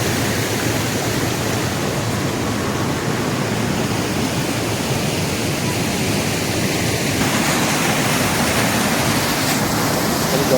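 Waterfall at Belpahari in Jhargram pouring with heavy post-monsoon pressure, a loud, steady, unbroken roar of falling water filling the whole scene with no voices.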